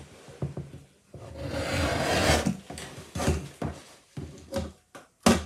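Scissors or a trimming tool rasp and scrape against thick embroidered fabric while trimming the edge of an in-the-hoop coaster, a close series of uneven rubbing strokes and short cuts with brief pauses, no voices.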